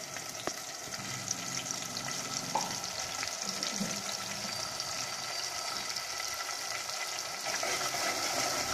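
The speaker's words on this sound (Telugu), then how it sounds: "మిక్సీ చేసుకున్న అల్లము, పచ్చిమిరపకాయ, ఉల్లిపాయ మొత్తం కూడా వేసి వేపుకోవాలి" Ground ginger, green chili and onion fry in a hot tempering for curd vada, giving a steady close sizzle with occasional stirring scrapes and small pops, no voices.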